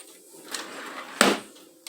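A drawer in a newly assembled fixed drawer unit slides and knocks shut close by, with a sharp, loud thump near the middle of the clip and faint scraping before and after.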